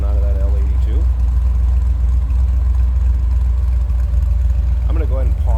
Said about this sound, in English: Nice little rumble coming out of that L82.